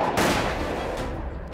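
Gunfire during an attack by a pack of dogs on a village kindergarten: two sharp, loud reports in quick succession, each leaving a rough reverberant tail.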